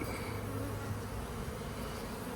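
Close, steady buzzing of a honeybee swarm settling into new housing on natural comb, a thick continuous drone with no pauses and no voices.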